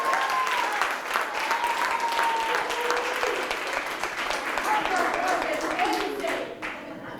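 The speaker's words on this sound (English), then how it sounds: "Let's give them a round of applause" Sustained applause from a large graduation audience honoring families at a high school commencement, steady and full for several seconds before tapering slightly at the end.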